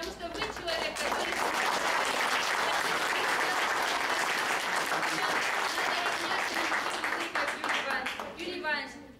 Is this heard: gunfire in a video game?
no